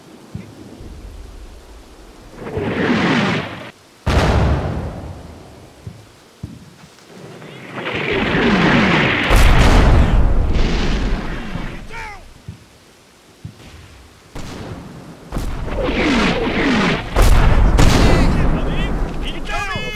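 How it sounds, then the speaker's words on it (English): Artillery shells burst in a Combat Mission: Battle for Normandy battle as German guns shell a defensive line, heavy rumbling explosions rolling in repeated waves, loud and close, with voices calling out over the barrage. "Now our line's being shelled by the Germans."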